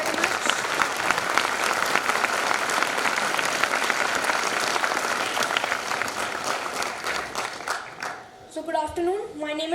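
A school audience at an inter-house senior English debate claps steadily for several seconds, the applause thinning near the end as a voice speaks.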